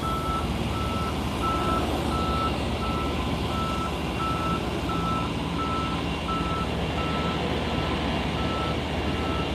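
A methane tanker truck pulling into a gate at SpaceX Starbase in Boca Chica, Texas, sounds a steady series of evenly spaced reversing beeps, heard at a distance over a constant outdoor engine and wind rumble.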